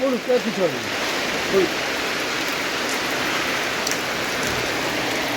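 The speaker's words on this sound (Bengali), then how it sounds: "বৃষ্টি মোটামুটি আবার আরম্ভ হলো।" Steady rain pours down in a dense, even hiss over a tarpaulin-covered house, with a voice speaking briefly at the start before the rain continues alone.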